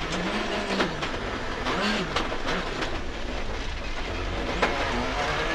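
A 2004 Skoda Octavia WRC rally car driving at speed, a steady loud roar of engine and road noise with a rising and falling engine note and occasional bumps.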